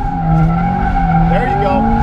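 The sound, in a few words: turbo Subaru BRZ drifting with tire squeal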